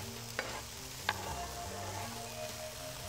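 Ingredients for rougail saucisse sizzle with onions on a hot plancha, a soft steady frying hiss with two small clicks of stirring, quiet and close.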